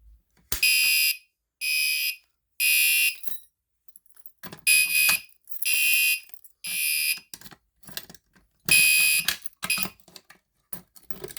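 Building fire alarm system set off by a pulled pull station, sounding a loud repeating electronic horn in regular bursts separated by short silences, close and alone.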